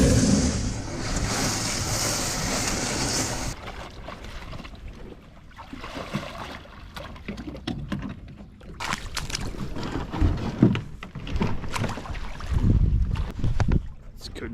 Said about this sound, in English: First bit of paddling footage of the season.